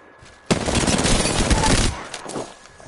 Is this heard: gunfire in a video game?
yes